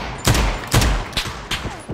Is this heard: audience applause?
no